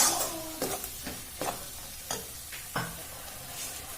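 Bitter gourd masala with turmeric being stirred in a hot pan, a constant sizzle under a series of sharp spoon scrapes at irregular intervals, close up.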